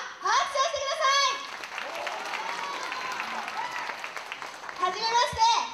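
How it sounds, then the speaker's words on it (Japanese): A Korakuen Hall crowd at a women's pro wrestling show bursts into loud, sustained applause and clapping for several seconds, with a voice and crowd chatter rising over it at the start and end. "本日東京以外から来てくださった方は拍手をしてください"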